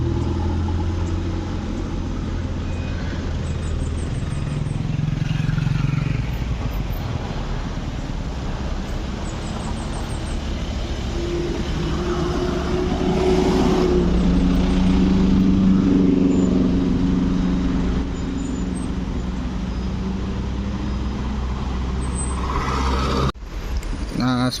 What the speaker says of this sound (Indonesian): ada kendaraan proyek yang keluar masuk teman-teman